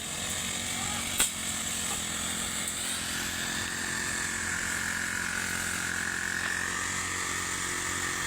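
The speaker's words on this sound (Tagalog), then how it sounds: "grass cutter." A grass cutter drones steadily and loudly throughout with a buzzing two-stroke engine note, one brief knock near the start.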